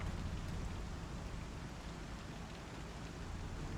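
Steady rain falling in Star Citizen, a constant dense hiss of drops, close and even throughout with no voices.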